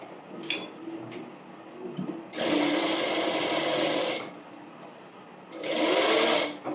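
Sewing machine stitching an umbrella frock in a tailoring class, heard as two loud bursts of rapid whirring stitching with a quieter pause between, plus a few short clicks and handling noises beforehand.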